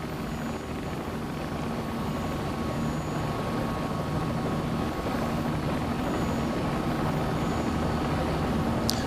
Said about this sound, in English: We can hear the blade slap now, which is also a nice feature.